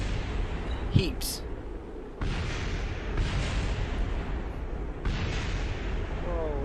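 Repeated rumbling explosions from a Kerbal Space Program spacecraft overheating during a crash landing, broad booming bursts at about two, three and five seconds over a continuous roar, with a voice speaking briefly.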